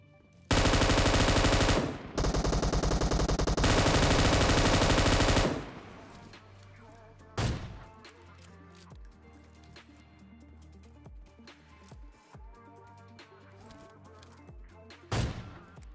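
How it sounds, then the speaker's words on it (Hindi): Gunfire in a PUBG Mobile firefight: about five seconds of loud sustained automatic bursts, then scattered single shots and quieter distant fire over the game's ambient backdrop, with a last sharp shot near the end. "अब पीछे की तरफ जो है भैया फायरिंग का साउंड आ रहा था"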